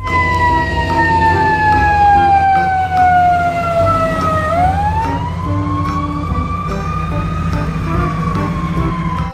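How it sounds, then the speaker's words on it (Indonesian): A toy police ambulance car's wailing siren sweeps down and back up, loud and close, with a steady hum underneath. "Yang ini ada mobil ambulan polisi."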